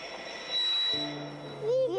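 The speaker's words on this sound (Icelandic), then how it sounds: "Svo hægir lestin á sér meir og meir." Cartoon train slowing and coming to a halt, a sustained tonal whine and rumble that shifts pitch, ending in rising squealing tones, with no talk over it.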